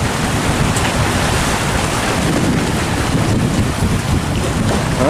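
A large Vietnamese trawler heads out to sea from the La Gi port mouth, its engine a steady broadband drone mixed with wind buffeting the microphone and water rushing past the hull, loud and constant throughout.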